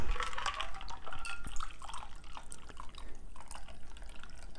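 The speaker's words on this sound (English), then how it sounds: "We pour in the cocktail." An apple cocktail is poured into a prepared glass. The liquid splashes and trickles for several seconds at close range, tapering off into faint drips.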